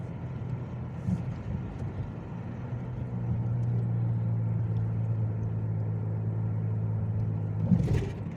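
A car rolls through downtown Bristol, Tennessee, on a quiet night, its steady low engine and road rumble growing fuller midway, with a brief louder bump near the end.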